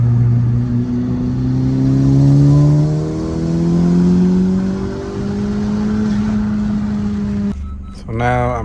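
A 2019 Honda Civic Si with upgrades and a boost tune revs hard through a full-throttle third gear pull, engine pitch climbing steadily and loud inside the car before the throttle lifts near the end.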